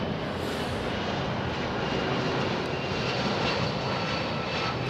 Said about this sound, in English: London Heathrow to Dubai Emirates 380 took an unusual flight path, Daniel Pearson saying.